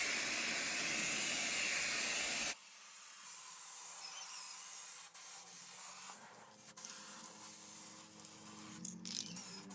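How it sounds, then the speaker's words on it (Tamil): Black aerosol spray paint hissing from a can in a steady, close, continuous burst, followed by quieter lower hiss and faint handling noises. "இப்போ ஈஸியா அடிக்க நம்ம பெயிண்ட் கடையில இருந்து கருப்பு கலர் ஸ்ப்ரே பெயிண்ட் வாங்கியிருக்கோம்"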